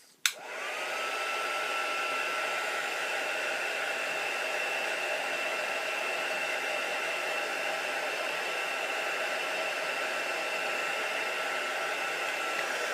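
A heat embossing tool switches on with a click and then blows a constant, even whirring hiss of hot air over embossing powder, steady and close without pause.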